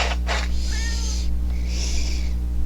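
A cat meows in a Temptations cat treats advert, two short calls close to the mic against a steady low hum, with sharp bursts of sound in between.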